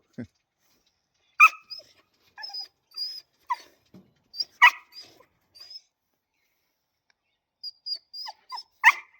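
Excited pet dog giving short high whimpers and sharp yips in scattered bursts, close and clear in a quiet room.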